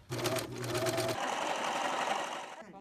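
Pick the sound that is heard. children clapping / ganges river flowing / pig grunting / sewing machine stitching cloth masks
sewing machine stitching cloth masks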